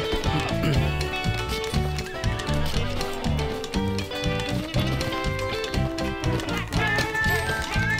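Horse whinnies and rhythmic galloping hooves sound over a dense, busy soundtrack in Red Dead Redemption 2 Online.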